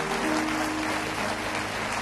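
In a church service, a congregation fills the room with steady acclamations and applause, a dense, unbroken wash of clapping and crowd noise at moderate loudness.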